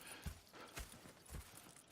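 Horse hooves clip-clopping in Red Dead Redemption 2, a quiet, even run of four or five distinct hoof strikes on the ground, alone with no talk.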